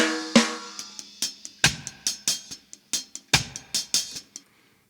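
Dry, isolated snare drum and rim hits from a reggae-style track, played solo in a sparse pattern of about fifteen sharp, close strikes with short decays and gaps between them.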